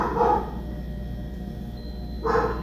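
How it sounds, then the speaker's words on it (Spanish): Dogs barking at a distance: two short barks, one at the start and one near the end, faint against a steady low background hum. "me preocupa el tema que se escuchan mucho los perros"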